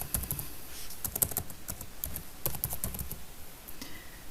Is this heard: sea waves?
no